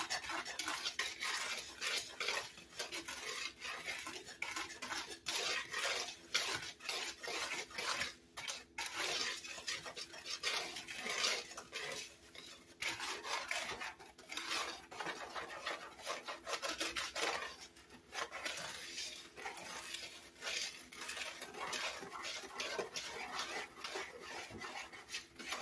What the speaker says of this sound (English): Distribute all that cocoa powder in with the flour and the sugar